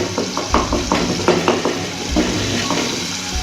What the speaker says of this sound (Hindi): अब अच्छी तरह मसाले को भून लिया है हमने।